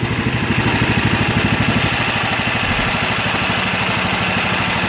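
A rebuilt Kohler Command CV15S engine on a John Deere GT225 lawn tractor runs at a smooth, even idle, its steady rhythmic pulsing close up and alone.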